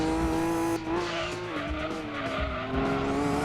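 Tyres squealing as a car drifts in Gran Turismo 2, a sustained high screech laid over a loud, steady engine note, wavering in pitch as the slide goes on.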